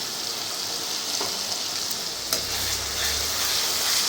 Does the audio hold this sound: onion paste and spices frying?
yes